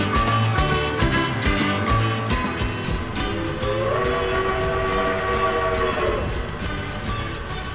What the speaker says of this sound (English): In your city, trains running